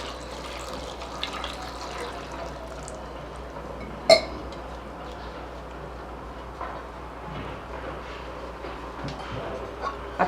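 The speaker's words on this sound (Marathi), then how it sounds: "आता याच्यात पाणी घालतील" Water splashes and trickles into a pot of tomato carrot soup, a steady faint liquid pour with a brief louder clink partway through, no talking.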